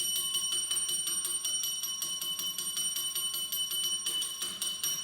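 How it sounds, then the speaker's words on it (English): A small bell rings repeatedly in a steady, fast ringing pattern on a talk podcast, bright and sustained at a moderate level with no talking over it. "I like my bell."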